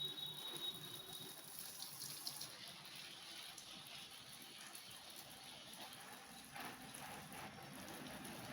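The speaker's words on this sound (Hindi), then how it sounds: "तो देते हैं पौधों में पानी" Water runs steadily while plants are watered on a rooftop, a soft continuous gushing hiss that stays faint and even throughout.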